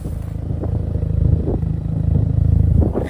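A Honda Civic Type R's deep, rumbling exhaust idles and swells steadily, close and loud, with a low throaty growl and no voices.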